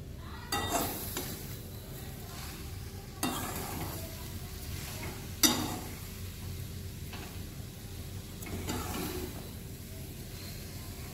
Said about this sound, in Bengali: ভালো করে এটাকে মিশিয়ে নিতে হবে।